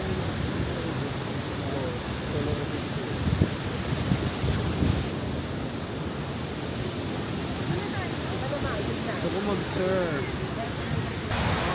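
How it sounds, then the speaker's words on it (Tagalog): Continuous roar of surf breaking on a beach on Boracay, loud and steady throughout, mixed with wind buffeting the microphone and faint voices underneath. "Grabe ang alon."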